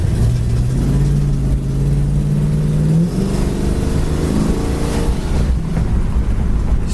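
A 1968 Pontiac Firebird's engine revs and accelerates hard, a loud, close, deep rumble rising in pitch for a few seconds, then dropping and climbing again through a gear change.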